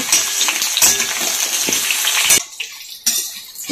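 Cauliflower pieces fry loudly in hot oil, a dense, close sizzle with stirring scrapes that cuts off abruptly partway through, leaving quieter, scattered crackles and a final burst.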